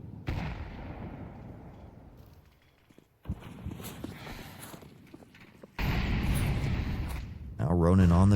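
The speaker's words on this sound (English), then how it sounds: "Grenades over the top here." Grenade blasts from a Counter-Strike match in an ESEA Main playoff game, with several broad bursts and booming hits in succession, loud and dense against background game noise and footsteps.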